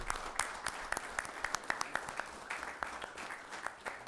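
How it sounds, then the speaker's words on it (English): Modest applause at a city council meeting, fairly quiet and distant, with a handful of sharp nearby claps standing out over the softer clapping of the room. "Give him a round of applause."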